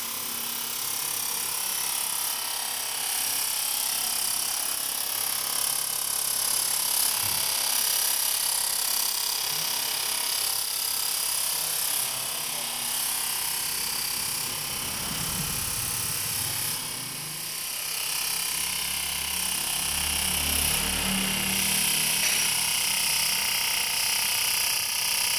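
A CRF motorcycle camshaft lobe is machined down to 25.5 mm, giving a continuous loud high-pitched grinding whine that holds steady throughout, with slight shifts in tone as the cut changes and a short dip partway through.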